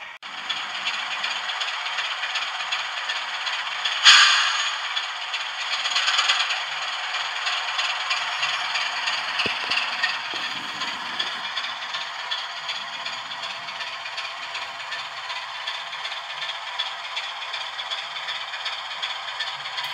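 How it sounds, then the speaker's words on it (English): A model railway locomotive creeps slowly over a Peco Electrofrog short diamond crossing with DCC80 autofrog units, giving a steady faint rattle and scrape of wheels on track with a sharper click as it crosses the frogs. "Another loco going across the crossing the other way."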